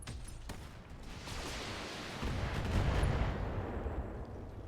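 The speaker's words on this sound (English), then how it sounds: "let's start burning volleys of fire on this" Volleys of weapon fire in the Battletech video game, a dense, rumbling barrage that swells louder midway and keeps booming steadily.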